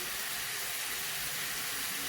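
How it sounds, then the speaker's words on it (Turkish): Chops sear in a hot pan, giving a steady, dense sizzling hiss that holds at an even level throughout, close and without talk. "Şimdi diğer tarafını mühürlüyorum."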